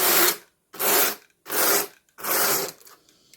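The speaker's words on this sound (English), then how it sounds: "And then I'm going to burnish that down so it stays down in the carding cloth here." A burnishing brush presses wool fibre down into the carding cloth of a blending board in four firm, evenly spaced scratchy strokes, close and clear, with a short pause between each.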